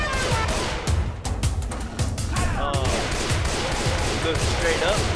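Gunfire in Left 4 Dead 2 comes as rapid sharp shots while players aim at a creature's eyeball and spikes. Bursts crowd the first seconds and then thin out under lively talk.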